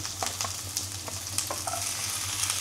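Sliced chayote sizzles in a frying pan while a utensil stirs it, a close, steady crackle broken by scraping strokes and light clinks, no talking.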